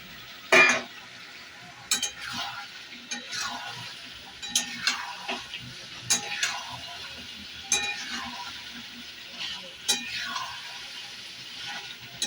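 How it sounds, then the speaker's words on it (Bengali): Potatoes added to a wok of frying chicken curry, with a loud first clatter, then steady sizzling and regular scraping stirs with a metal spoon, no talking. "আলুগুলো দিয়ে দেবো এবার কড়াইতে"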